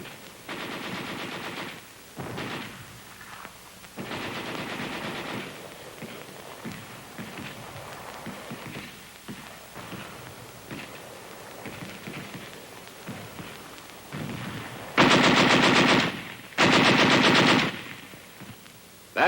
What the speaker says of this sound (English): A machine gun doesn't do any good while it's on somebody's back. So the idea is to get it firing and do it fast.